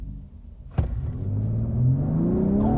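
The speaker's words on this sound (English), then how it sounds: "we're just gonna floor it again from a stop" A 2022 Ford F-150 Raptor in Baja exhaust mode launches hard from a stop, a sudden thump followed by a rising, swelling engine roar that climbs steadily in pitch as the truck accelerates.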